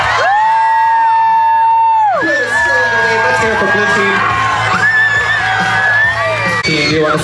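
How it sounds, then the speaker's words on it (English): A crowd of spectators at a dog show cheers loudly for the dogs, with sustained whoops and high yells rising and falling in long, overlapping waves that fill the whole stretch. "Cheer on your dogs,"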